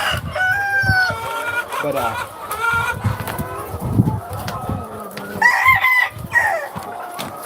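A flock of laying hens on a farm clucking and squawking loudly while waiting to be fed, busy overlapping calls and crowing-like cries up close, with a brief spoken word.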